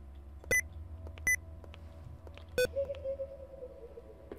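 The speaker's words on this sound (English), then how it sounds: "Why does it keep beeping?" Inside a horror video game set in an insane asylum, sharp electronic beeps sound a few times at irregular intervals, followed by a longer wavering tone over a low steady hum.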